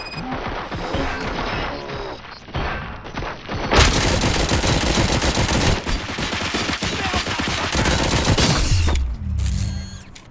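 RoboCop video game gunfire, rapid automatic bursts and crashing impacts that build into a dense, loud fusillade for several seconds before cutting off, with mechanical clatter.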